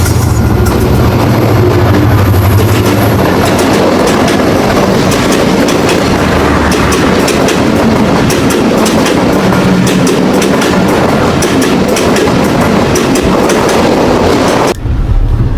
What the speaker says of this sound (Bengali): এখন ট্রেন আমাদের ক্রস করছে তিতুমির এক্সপ্রেস